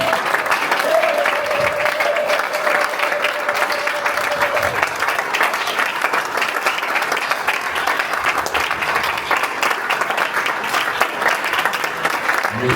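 A church congregation in Douala, Cameroon applauds loudly and continuously, many hands clapping together in a dense, sustained ovation with a few faint voices mixed in.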